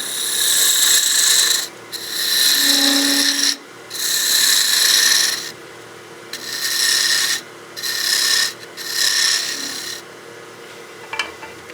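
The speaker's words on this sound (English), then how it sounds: "So we use our skew, do a nice peel cut." A skew chisel makes peel cuts on a wood lathe while a small bat house ornament is turned. There are five or six loud rasping passes with short pauses between them, and the last passes come in quicker succession.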